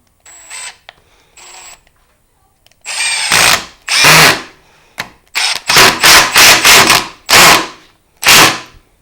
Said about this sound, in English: we'll drive our screws in just as we did before